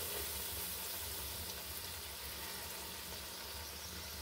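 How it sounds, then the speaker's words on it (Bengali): Batter fries in hot oil in a kadai for a vegetable chapati snack, a faint, even hiss and sizzle running steadily throughout without voices. "এইভাবে সবগুলোকে ভেজে নেব"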